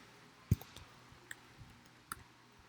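Laptop keyboard keys tapped to type a pip install command, a few sparse clicks close by, one sharper press near the start and lighter taps after, in a quiet room.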